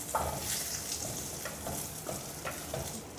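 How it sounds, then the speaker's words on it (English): Garlic, ginger and dried chilies sauteing on low heat in a hot pan for a stew of pork ribs with radish, giving a steady soft sizzle with a few faint stirring scrapes, close and without speech. "garlic in, ginger, and dried chilies. Saute on low heat until fragrant."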